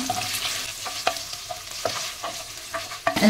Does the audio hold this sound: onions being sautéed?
yes